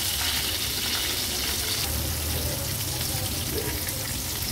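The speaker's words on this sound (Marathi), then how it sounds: "आता हा बोंबील देखील तेलामध्ये सोडते।" Semolina-coated Bombay duck (bombil) fish fries in oil with a dense, steady, close sizzle and bubbling that holds throughout.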